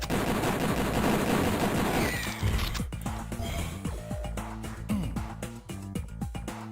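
Pistol and other weapon fire in Duke Nukem: Plug 'N' Pray, a loud dense burst of shooting at first, then a string of sharp separate shots with echoes continuing to the end.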